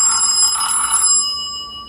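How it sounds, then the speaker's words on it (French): An old-style bell ringtone from a Mlais M4 Note smartphone at full volume rings loudly and continuously with a bright metallic trill, then stops abruptly, leaving a fading high ring. "c'est sonnerie du téléphone"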